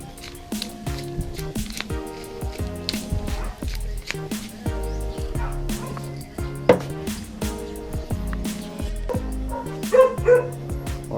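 A dog barks and yips repeatedly nearby during outdoor cooking of lunch with pork and pepper, the barks rising over a background of music.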